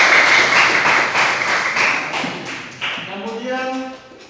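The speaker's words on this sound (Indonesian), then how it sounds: "kita berikan aplaus dulu untuk kelompok" A classroom group gives a round of applause, a dense wash of clapping that holds steady and fairly loud before thinning out, with a voice rising over the tail end.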